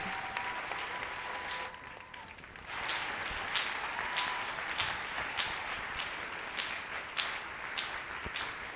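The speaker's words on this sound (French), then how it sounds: "Sous vos acclamations, nous recevons le pasteur Serge Ndala." An audience breaks into sustained applause to welcome a pastor onstage at a church service, steady clapping filling the room throughout with a brief dip partway through before swelling again.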